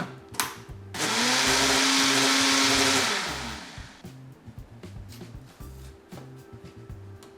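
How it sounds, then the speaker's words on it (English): A smoothie with a spoonful of peanut butter whirs loudly in a blender for about three seconds, a steady high-pitched motor roar that starts abruptly and winds down, with soft background music and light handling noises before and after. "all we're going to do is just cap it, blend it, and you're good to go"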